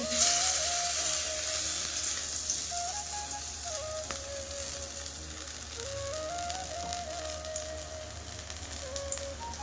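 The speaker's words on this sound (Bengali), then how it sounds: "বাটারের মধ্যে ডুবিয়ে এবার তেলের উপরে দিয়ে দেব" Batter-dipped, stuffed kakrol gourds sizzle steadily in hot oil, a close, continuous frying hiss with faint crackles; a soft melodic tone drifts in the background.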